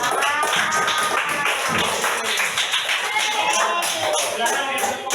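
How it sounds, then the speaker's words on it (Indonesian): A classroom of children claps hands in a dense, continuous patter, with overlapping voices and chatter mixed through the clapping. "Tepuk tangan dulu nama timnya Cancel"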